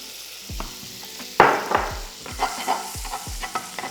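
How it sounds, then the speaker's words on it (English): Butter melts in a pan for scallops, a soft sizzle under a series of sharp metallic clinks and scrapes of a utensil against the pan, close and irregular, with no voices. "We go in with the butter, and we just want to gently melt"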